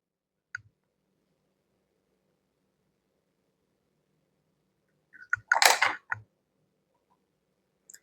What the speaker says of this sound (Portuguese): Então, eu vou cortar o fio.